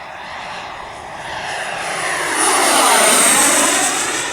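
Flyfans MiG-25 Foxbat twin electric ducted fan model jet at full throttle, a loud, high whining roar that swells as the aircraft passes close overhead and then holds strong.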